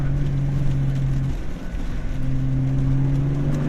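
A turbo petrol Toyota Land Cruiser 80 series accelerates under boost, a steady droning engine tone that dips briefly then climbs again to a higher pitch, heard from inside the vehicle without talk.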